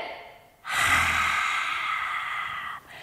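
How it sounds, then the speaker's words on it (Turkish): A single long, deep breath drawn in through the nose and then let out during a children's yoga exercise, a soft, airy rush lasting about two seconds, close and alone with no talking. "Burnumdan derin bir nefes aldım ve yüzüme sıktım."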